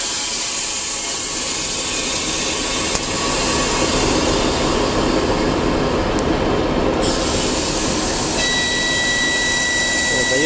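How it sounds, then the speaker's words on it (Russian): A passenger train departs a station at night. A constant heavy rumble of railcars runs throughout, and a steady high horn tone sounds near the end as people talk nearby. "Дает гудок, значит он отправляется."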